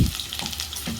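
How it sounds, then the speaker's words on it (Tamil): Hot oil sizzles and crackles steadily with onions frying in it, a close, busy hiss throughout. "இது எண்ணெயில் போட்டு கொஞ்சம் நேரம் நல்லா பொரியட்டும்."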